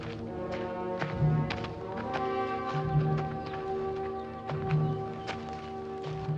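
Steady clip-clop of horse hooves walking at an even pace, with a low hum of background noise beneath.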